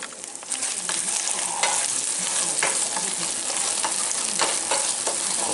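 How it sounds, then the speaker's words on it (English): Chorizo and eggs sizzle steadily in a pan, with scraping stir strokes breaking through at irregular intervals, close and loud with no talking. "Just keep stirring it a little bit. Keep it cooking evenly."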